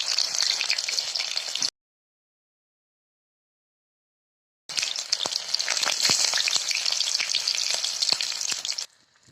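Chopped onions fry in hot oil in a pan for a kosu (taro) dish, giving a close, crackling sizzle with scattered pops; the sound breaks off into a few seconds of silence, then resumes just as busily before fading.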